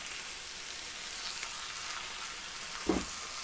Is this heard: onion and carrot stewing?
yes